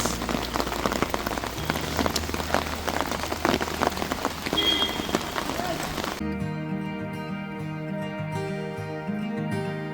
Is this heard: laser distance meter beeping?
no